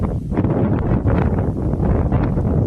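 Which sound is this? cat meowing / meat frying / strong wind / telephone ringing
strong wind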